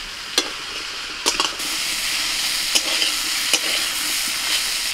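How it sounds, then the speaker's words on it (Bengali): A pan frying lightly with turmeric and salt gives a steady, close sizzle, broken by a few sharp clicks and scrapes of a utensil against the pan. "খুব বেশি ভাজবো না, হালকা করে ভাজবো।"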